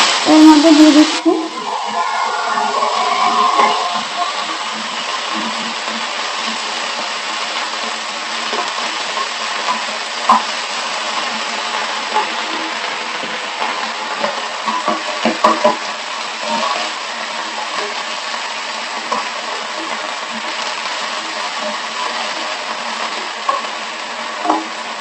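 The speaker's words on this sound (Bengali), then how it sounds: "সর্ষে ফুলগুলো আমি ভালো করে ভেজে নেব" Mustard flowers fry in oil with dried red chillies for a Bengali mustard-flower paste, giving a loud, close sizzle that bursts at the start and then crackles steadily with light stirring throughout.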